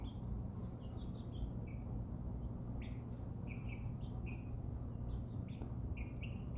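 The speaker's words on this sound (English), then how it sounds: "Lovely, lovely birds." Young chicks, about 58 days old, give scattered thin high chirps and tweets over a steady low background hum, faint and indoors, with no talking.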